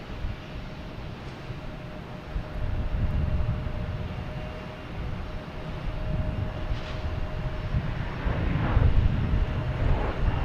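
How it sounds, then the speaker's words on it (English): A JetBlue airliner rolls out after landing at Boston Logan, a steady broadband jet roar with low rumble that swells toward the end, heard from a distance near the runway ends. "There's that JetBlue that just landed, coming back."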